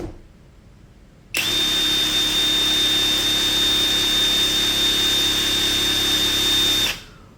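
Dongcheng DCPB488Z cordless brushless impact wrench running free in medium mode, a steady high-pitched motor whine lasting about five and a half seconds before stopping abruptly.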